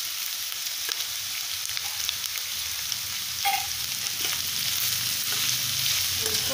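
Capsicum for bhurji frying steadily in a pan, a continuous close sizzle with no pauses and no talk.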